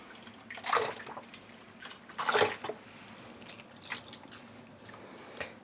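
Water sloshes and splashes in two brief bursts as dyed yarn is dunked in a tub and lifted, followed by softer dripping and trickling.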